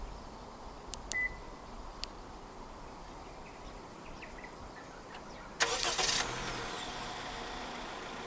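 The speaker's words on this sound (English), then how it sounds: "Standard for the 8th generation City in Malaysia from the E trim and above is a remote engine start system" A 2024 Honda City 1.5 RS, 8th generation, starts by remote start: a few faint beeps and clicks, then the engine catches with a brief burst and settles into a quiet, steady idle.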